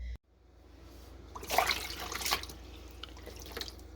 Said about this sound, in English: I just rinse these out with hot water